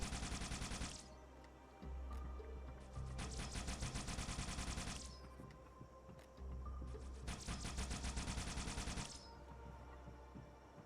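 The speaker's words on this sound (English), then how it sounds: "it actually performs like the Halo 1 Needler, where it starts off with a slower fire rate and gets faster as it progresses through the clip" Needler from the Halo 3 alpha firing in bursts, a rapid stream of sharp crystalline shots that speeds up through each burst, repeated three times with brief pauses between, loud and close.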